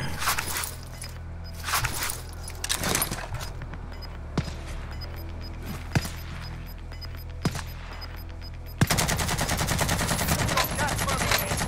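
Rapid gunfire bursts from a weapon in the Call of Duty Warzone video game, with sharp repeated shots spaced through the clip and a denser, sustained volley near the end over a steady game background.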